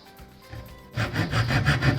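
A hand saw cuts through bamboo in quick, rasping back-and-forth strokes, beginning softly and then growing loud and rhythmic at close range, with no voices.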